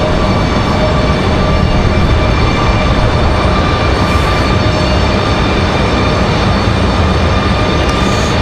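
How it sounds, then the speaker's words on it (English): A United Boeing 737 MAX jet departs Raleigh-Durham International Airport, producing a constant, loud, broad roar that holds steady for the whole stretch. "Got a United 737 MAX, I believe, on the way out of here."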